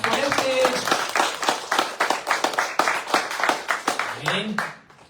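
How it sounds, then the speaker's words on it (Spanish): Church congregation applauds in praise of God, a lively burst of many clapping hands with some rhythmic unison claps, close and loud, while voices call out over it before it fades at the end. "¿Quién le da un aplauso a nuestro Padre Dios?"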